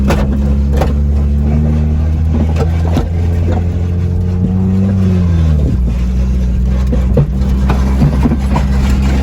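Low-slung car with extreme negative camber revving loudly up close, engine pitch rising and falling as it pulls away, constant heavy rumble throughout.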